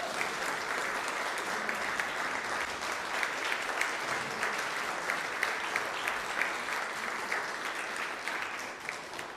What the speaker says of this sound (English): And we can clap while we do it.